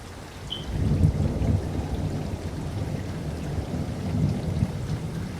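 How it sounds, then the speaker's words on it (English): A thunderstorm rolling in over a farm, with low rumbling thunder rolling continuously under steady rain, moderately loud and without talking. "This is the storm that's rolling in now."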